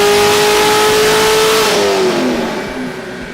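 Ford 416 engine in a race car on a dyno pull, revving hard in a loud, sustained whine that climbs, then drops off and fades as the pull ends.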